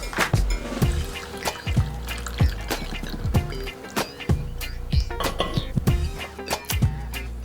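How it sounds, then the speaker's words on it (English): Homemade ginger mead is poured into a decanter, giving close, gurgling glugs that come in uneven bursts with a few clinks of glass. "I'm just gonna pour it into my decanter so that I can enjoy it."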